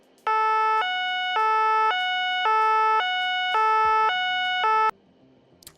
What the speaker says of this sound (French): Les véhicules d'intérêt général prioritaire ont des sirènes à 2 temps.